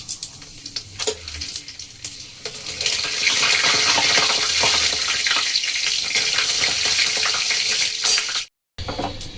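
Dry red chilli, cumin seeds and a bay leaf hit hot oil for a vegetable kofta curry, giving a steady, busy crackling sizzle close up that cuts out briefly near the end.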